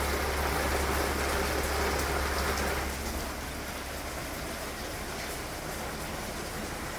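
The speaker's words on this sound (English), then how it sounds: "It's starting to rain again." Steady heavy rain pours down outdoors during a hurricane, a dense continuous hiss of drops on surfaces that eases slightly partway through, with no voices.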